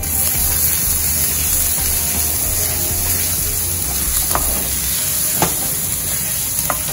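Steady hiss of garlic sizzling in oil in a frying pan, with a few soft clicks and stirring scrapes, no voices.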